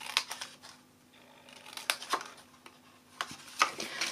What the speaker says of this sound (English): Here you cut up straight.